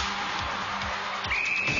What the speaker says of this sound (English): And there's the final whistle